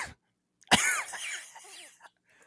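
A person coughing close to the microphone, one harsh burst trailing into a raspy throaty rasp, alone in a quiet room.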